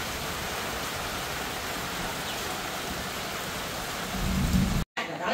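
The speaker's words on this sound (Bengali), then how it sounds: "এই দিক দিয়া প্রচুর বৃষ্টি পড়তেছে।" Heavy rain pours down in a village, a dense, continuous close hiss that grows a little heavier before a brief cut near the end.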